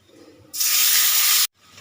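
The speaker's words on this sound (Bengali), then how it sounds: "এই যে কচু শাকটা তেলের মধ্যে দিয়ে দিয়েছি ভালো করে একটু কষিয়ে নেবো" Taro leaves dropped into hot oil over a reddened tempering set off a sudden loud, bright hiss that holds steady for about a second, then cuts off abruptly to near silence.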